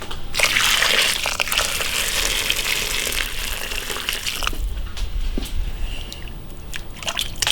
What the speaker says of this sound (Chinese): 加点热水把它洗一下。